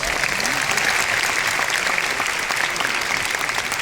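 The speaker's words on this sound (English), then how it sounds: "Give them a big round of applause." At a recognition event, a large crowd claps in a steady, full round of applause, loud and continuous with faint voices underneath.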